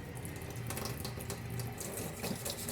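A tap runs steadily into a sink, a continuous close hiss and splash of flowing water with no talking over it.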